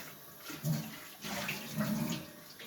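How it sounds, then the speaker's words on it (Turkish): Tap water runs steadily while bush bark is rinsed under it, a continuous close splashing that swells and dips with the washing, with no talk. "Şöyle yıkayayım."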